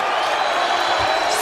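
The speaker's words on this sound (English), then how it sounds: "listen to the crowd" A packed basketball arena crowd at a 2022 Atlantic 10 Tournament game between Richmond and VCU roars in a steady, dense wall of cheering that holds loud and unbroken throughout.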